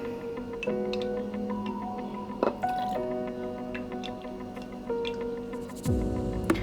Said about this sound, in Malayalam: നമുക്ക് അതിലേക്ക് ഒരു 4 ടേബിൾ സ്പൂണ് ഹോട്ട് വാട്ടർ ഒഴിച്ചു കൊടുക്കാം.